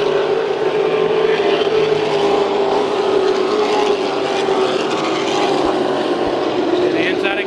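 Late model race cars at Auto Club Speedway in a 75-lap race, a loud steady engine roar with shifting pitch as the field circles, while an announcer talks over it.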